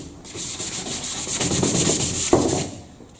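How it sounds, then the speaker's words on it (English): Light hand sanding of new timber along the grain: a steady run of soft, even rubbing strokes close by, with no voices, and a slightly firmer scrape near the end. "it's just a light gentle rub over the new timber in the direction of the grain of the timber"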